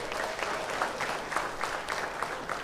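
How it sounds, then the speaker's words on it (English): Steady, dense applause from a crowd at a political town hall meeting, continuous and moderately loud, with no talk over it. "Please give them a round of applause."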